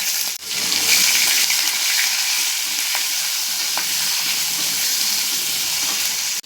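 Capsicum and onion fry in hot oil with whole spices in a pan, a loud, continuous sizzle with stirring scrapes and brief clatters close by.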